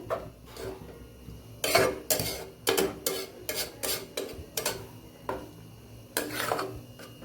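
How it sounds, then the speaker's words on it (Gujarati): Milk being stirred into carrot halwa in a pressure cooker, with repeated scraping clinks of a metal spoon against the pot in an irregular rhythm, close and moderately loud, no talking. "અને બાકીનું જે દૂધ બચેલું છે આપણે અહીંયા ઉમેરી દેશું। એ પણ સરસ આપણે મિક્સ કરી દેશું।"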